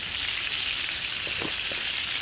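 Beef steak frying in a pan, giving a steady, bright hiss of sizzling fat with a few soft clinks and shuffles as the meat is turned; the sizzle is close and continuous throughout, with no voices.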